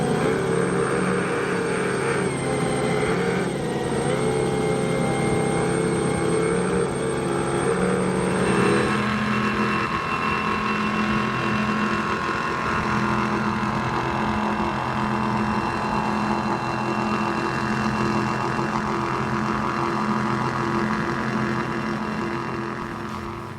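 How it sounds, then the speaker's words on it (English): Mercury Racing 565 engines on a powerboat during a Miami poker run roar loudly and continuously at speed, a dense, steady engine drone over rushing wind and water with no pauses. "a little bit of engine horsepower, a little love from those Mercury Racing 565s"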